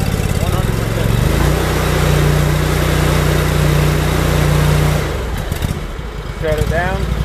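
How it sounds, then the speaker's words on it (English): An Oggun tractor engine running after warm-up, a steady loud motor drone that holds for several seconds, then drops and shifts pitch near the end, with someone talking over it. "let the motor warm up for 2 to 3 minutes"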